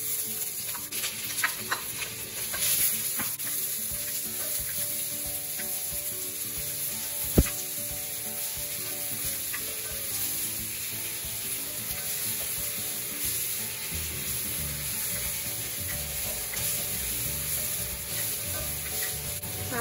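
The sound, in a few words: onion frying in hot oil in a pan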